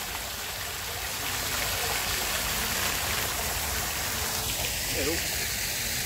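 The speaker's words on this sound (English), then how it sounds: "There you go, nice water feature." A fountain trickles and splashes in a steady watery rush, with faint voices in the background near the end.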